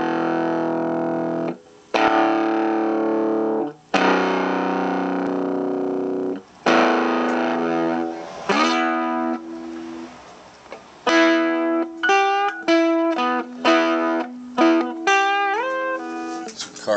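Distorted electric guitar played through a Fryette S.A.S. tube pedal with taming mods and a Sovtek EF86 Russian tube: several sustained ringing chords, then a faster run of short bent single-note phrases, loud and close, with no talking.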